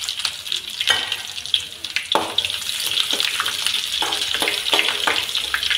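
Mustard seeds, cumin, garlic slices and onion pieces fry steadily in hot oil for a tempering, a continuous close sizzle with occasional stirring scrapes and small pops.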